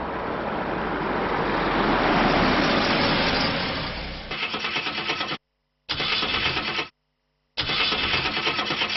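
A car engine cranks with a rough, loud roar, then falls into a rapid pulsing chug that cuts out twice in short silences before catching again.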